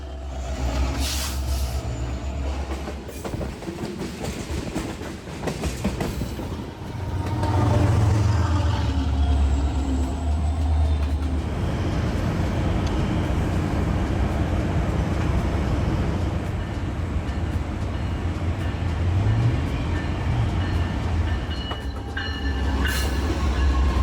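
A BNSF tanker freight train rumbles past nearby, its heavy wheels clattering steadily over the rails for a long stretch, with no talking.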